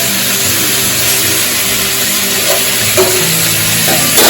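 Okra sizzles in a frying pan for a shrimp dish, a steady close crackle with a few light stirring scrapes near the end.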